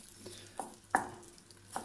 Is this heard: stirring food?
yes